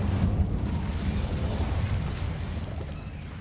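A fire spell, Incendio, is cast in Hogwarts Legacy, giving a loud roaring burst of flame that rushes on steadily and slowly fades toward the end, with no voices.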